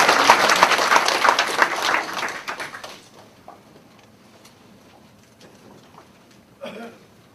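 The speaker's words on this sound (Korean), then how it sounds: "이왕에 치는 박수 더 큰 박수를 하나님 치는 거예요" Clapping from a church congregation at a Korean Full Gospel church gathering: a burst of dense applause for about three seconds that thins out into a few scattered claps and quiet room sound, then a brief louder sound near the end.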